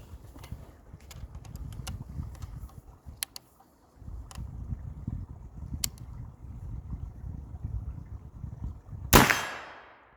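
A Crockett .32 black powder rifle fires one sharp, loud shot near the end, its blast trailing off into a short decay after a stretch of low outdoor rumble and faint clicks.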